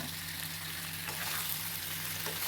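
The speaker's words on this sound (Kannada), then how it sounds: "ಸೊ ಈಗ ಇದಕ್ಕೆ ಈರುಳ್ಳಿಗೆ ವಾಶ್ ಮಾಡ್ಕೊಂಡಿರುವಂಥ ಚಿಕನನ್ನು ಸೇರಿಸ್ಕೊಳ್ಳೋಣ." Washed chicken pieces fry with golden-brown onions in a hot pan for chilli chicken, giving a steady, close, even sizzle throughout with a faint low hum behind it.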